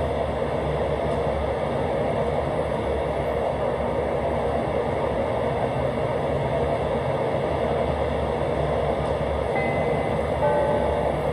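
Steady rumble and rolling roar of a Chicago Brown Line train bound for Kimball in Railfan on PlayStation 3, continuous and close like riding inside the car, with no talk.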